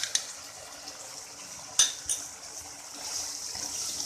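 Green chicken karahi with added cream stirred in a pan, a spoon clinking and scraping against the metal a few times over a faint soft sizzle.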